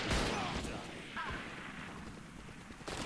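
Gunfire from the tactical shooter Valorant sounds in a quick cluster of sharp shots at the start, then continues as scattered fainter pops and rumble, with a player talking excitedly over it.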